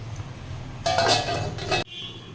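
A metal pot lid is set over a pan of hilsa fish, giving a close, bright metallic clatter and short ringing scrape lasting about a second before cutting off, with no talk.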